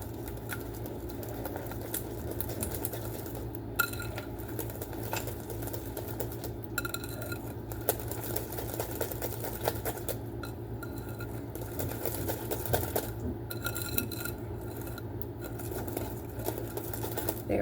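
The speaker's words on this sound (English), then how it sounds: "we're going to whisk in the eggs and brown sugar to the pumpkin and butter" Eggs and brown sugar whisked into a pumpkin and butter mixture in a bowl, a steady run of light clinking and scraping strokes against a low room hum, with no talking.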